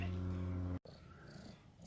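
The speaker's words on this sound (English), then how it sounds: "Cutest cat in the world." A domestic cat purrs close by with a steady low rumble for under a second before it cuts off abruptly, leaving quiet outdoor background noise.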